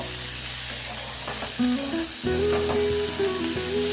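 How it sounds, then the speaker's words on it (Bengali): Potatoes frying with large tomato chunks for aloo posto, a close steady sizzle with a sharp flare as pieces are tossed in and spoon scrapes against the pan. "এবার টমেটো দিয়েও আলু পোস্তটা আলুগুলো একটু ভেজে নেব"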